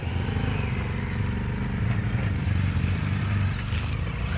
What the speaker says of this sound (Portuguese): Tá vindo moto aí.